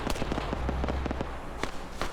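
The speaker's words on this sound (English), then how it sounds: "you do have the special forces now firing as well" Rapid gunfire from special forces in an Arma battle, a scattered run of sharp cracks at moderate distance over a steady low rumble, with a few louder reports near the end.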